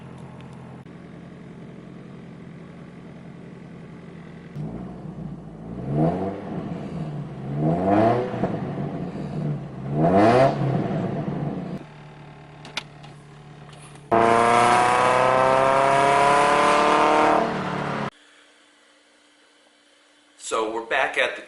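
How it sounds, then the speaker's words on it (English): A 2001 Ford Focus ZX3 hatchback on a hot midday drive, its engine revving in three rising pulls, then a long steady high drone, a cut to near silence, and a final brief burst. "we're just gonna show you how the car's been running"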